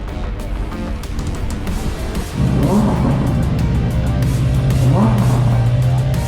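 A Ferrari V8 sports car engine idles, then jumps to a louder, deeper rumble partway through and revs up twice, close by and dominant with no talk over it.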